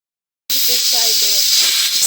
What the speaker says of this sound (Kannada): ಈಗ ಕುಕ್ಕರ್ ಕೂಗಿಸೋಣ.